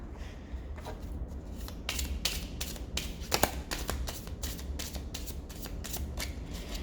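A deck of cards being cleared and shuffled by hand, with repeated crisp riffles and taps in an uneven rhythm, close and moderately quiet against a faint background hum.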